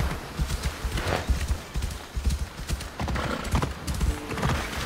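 A horse in the video game Assassin's Creed Odyssey trots with quick, rhythmic clip-clop hoofbeats on hard ground, steady and close throughout, with a whinny layered in among the steps.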